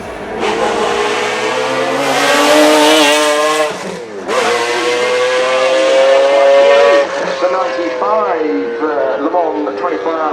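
Engine of the short-tail McLaren F1 GTR with its 6.1-liter BMW V12, detuned to about 600 horsepower, in Need for Speed High Stakes: a loud, sustained high-pitched wail rising through gears with brief shift dips, under a talking voice.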